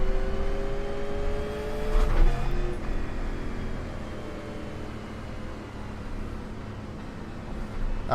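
Race cars rolling around New Smyrna Speedway, a short track, on the pace lap before the green flag: a steady blend of engine drones with overlapping harmonic lines, a brief louder swell near two seconds, and no talk.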